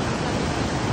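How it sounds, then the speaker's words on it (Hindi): Water pours hard through Chakjau Dam on the Lakhnau branch in Shahjahanpur, a loud, steady roar of rushing water filling the whole second without a break. "ये देखो यहाँ पर चल रहा है डैम का पानी"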